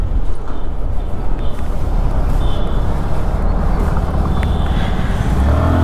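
Hero Xoom scooter riding along a road during a brake test, with continuous loud rumbling engine and wind noise that stays steady throughout, a brief faint tone near the middle.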